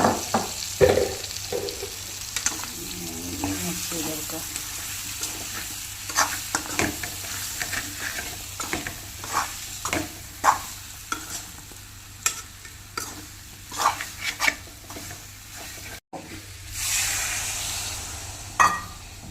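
Chicken sizzles in a pan while a utensil scrapes and stirs in irregular strokes, a steady frying hiss underneath throughout.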